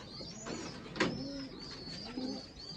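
Pigeons give soft, low cooing calls at a loft where squabs are raised. A few burbling coos sound faint against quiet background noise, with one brief flutter or click.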